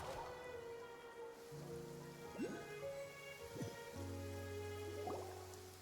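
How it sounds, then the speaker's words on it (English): Steady rain falls in the video game Genshin Impact, a constant wash of drops on surfaces running through the whole stretch while musical tones play over it, with no talk. "It's been raining non-stop for a few days now."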